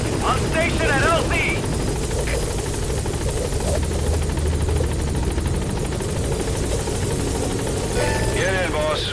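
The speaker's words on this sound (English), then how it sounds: "Support helicopter has arrived." A support helicopter in the video game Metal Gear Solid 5 hovers with a steady, loud rotor drone and engine rumble throughout, while radio-style voices speak briefly near the start and end.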